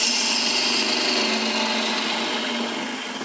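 Wood gouge taking rough cuts on a hexagon-style bowl spinning on a lathe, a steady close continuous hiss and whir with no talk.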